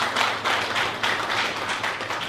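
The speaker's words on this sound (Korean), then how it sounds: "하나님께 감사의 박수 올려드립니다" A church congregation claps at the close of a Sunday sermon, giving a loud, close, roughly rhythmic run of hand claps with regular pulses and a full room wash behind them.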